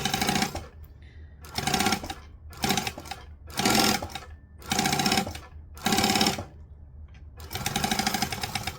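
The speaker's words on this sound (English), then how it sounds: "we're going to get to the end, we're going to back stitch" A sewing machine runs in a series of short stitching bursts, about seven close, loud whirring runs separated by brief pauses, ending with a longer run as the seam reaches its end and gets back-stitched.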